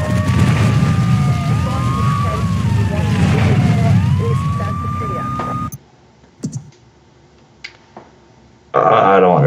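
A wailing emergency siren in the GTA 3 video game rises and falls over engine noise and game sounds, loud for about six seconds, then cuts out, leaving brief thuds and a final burst of noise.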